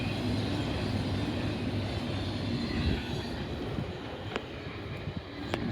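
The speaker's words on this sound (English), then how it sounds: "As you can see, that train head west here." A westbound intermodal freight train carrying UPS and JB Hunt trailers and containers rolls past in Oak Harbor, Ohio, a loud, steady low rumble of wheels and cars with a couple of faint metallic squeals near the end.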